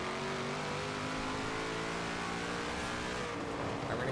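Engine of a 1500hp Formula Drift car in Forza Horizon 4, droning loudly and steadily with layered harmonic tones throughout, with no talk over it.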